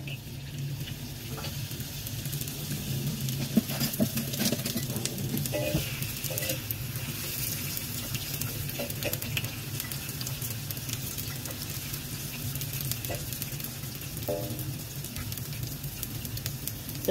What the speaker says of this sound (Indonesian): Kita panaskan minyak, kita tunggu sampai dengan minyaknya panas.